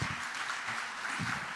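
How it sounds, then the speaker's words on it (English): Audience applause at an Indian community gathering in Bangkok, a steady wash of many hands clapping together, moderately loud and continuous through the short stretch with no voices. "Please give him a big round of applause."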